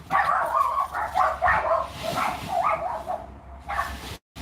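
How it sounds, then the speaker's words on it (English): A dog barks repeatedly in quick bursts, close and fairly loud, with a brief gap near the end. "So the dog's on guard."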